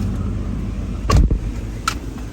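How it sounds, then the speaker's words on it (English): A Ram 1500 pickup truck engine runs steadily with a low rumble in about 40 below cold, broken by a couple of brief knocks and clicks nearby. "Truck started up okay though"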